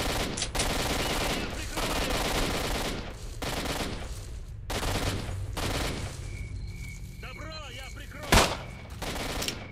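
Bursts of automatic gunfire in the shooter game S.T.A.L.K.E.R.: Shadow of Chernobyl, loud repeated volleys separated by brief gaps, with a sharp single shot near the end and other in-game sounds between.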